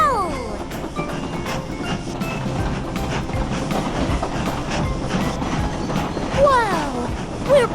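A cartoon toy train rolls along with a steady rhythmic clickety-clack of wheels on track over a low rumble, while brief squeaky sweeping tones and cartoon voices pop in near the end.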